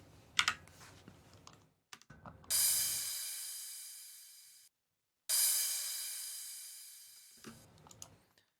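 A long crash cymbal sample for a psytrance drum loop strikes twice, each hit a bright, loud wash that slowly fades over about two seconds, after a few soft, scattered clicks.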